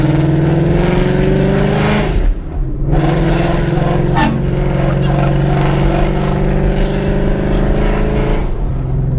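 A modded 2015 Ford Mustang GT's V8 exhaust rumbles loud and close while driving, with a steady deep drone, a brief dip near the two-second mark, and revving swells afterward.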